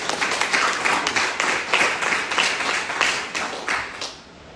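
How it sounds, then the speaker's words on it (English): Clapping at a rural council engagement meeting with paramount chiefs in Sierra Leone, close and loud rhythmic hand claps from a crowd in uneven bursts that taper off and stop. "una clap for me"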